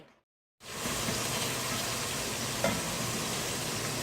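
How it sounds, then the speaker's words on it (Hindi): Ginger garlic paste frying in oil in a pot, a loud continuous hiss and sizzle that starts suddenly after a brief silence and holds steady, close up. "ऑयल में मैं जिंजर गार्लिक के पेस्ट को फ्राई कर कर"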